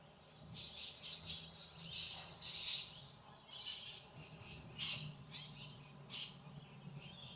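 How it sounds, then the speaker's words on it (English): Several birds call and chirp in botanic gardens on the Gold Coast in winter, with bursts of shrill, bright calls rising and falling over a steady outdoor background; no talking. "Just listen to those bird sounds."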